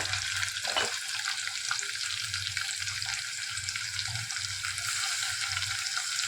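Chopped tomatoes frying in hot oil with curry leaves and asafoetida, a steady soft sizzle broken by occasional scrapes and clinks of a spoon stirring the pan, with no talking.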